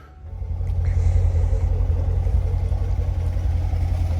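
A C7 Corvette with a suspected torque tube rattle fires up and settles into a deep, steady idle rumble, close and continuous, with no talking.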